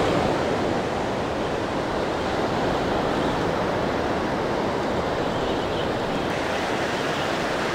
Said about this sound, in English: Use those waves.